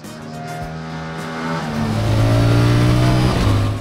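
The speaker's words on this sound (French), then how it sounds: "pour un bicylindre parallèle 4 temps, le son de cette machine est plutôt acceptable" An Aprilia RS 457 motorcycle's four-stroke parallel-twin engine revving up, its buzzy harmonic note rising and growing louder over a few seconds, close and alone.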